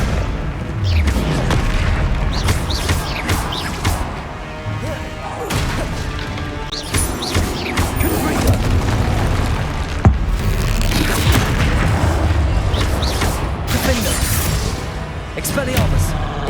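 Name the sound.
Confringo fire spell explosions in video game Hogwarts Legacy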